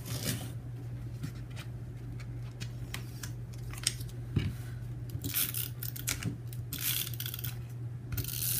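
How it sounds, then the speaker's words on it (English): A Tombow adhesive runner is rolled across paper sticky notes at a desk, giving repeated short ratcheting clicks and scratchy tape-peeling strokes, close and fairly quiet over a steady low hum, with no talking. "I'm going to use my Tombow adhesive runner to turn them into stickers that actually stay on the page."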